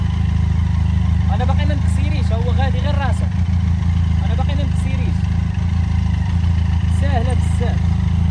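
A large motorcycle engine idling with a steady low throbbing hum that runs throughout, while a person talks loudly over it close by.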